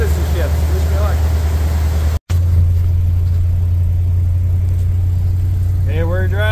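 A ramp truck's engine drones steadily with a strong low rumble as it drives off, cutting out for a moment before resuming, with the pitch rising near the end as it revs and shifts.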